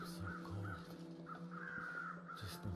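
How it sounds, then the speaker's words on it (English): Crows caw repeatedly in the wilderness survival game The Long Dark, a series of harsh calls at a moderate distance over a quiet background. "we could hear the crows back by camp office and see the ones at derailment"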